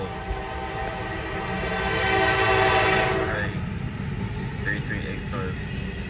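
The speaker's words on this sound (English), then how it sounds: "That was a short train." A short freight train rolls past a Williamsburg, Kentucky railroad crossing, a steady rumble and sustained horn tone building then cutting off as it clears; a person speaks briefly near the end.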